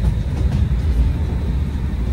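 A passenger train bound for Tirupati rumbles steadily from inside a carriage, a continuous low, dense roar with no breaks and no voices over it.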